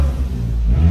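A Volkswagen Jetta TSI engine with a diffuser revs hard close by, a deep, throaty rumble with exhaust pops that holds steady and loud for about a second.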